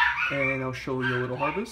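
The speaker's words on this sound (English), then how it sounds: "Sorry about the dog barking," A pet dog barks in the background of a home hydroponic garden, giving two or three short, toned barks and yelps while a person speaks over them.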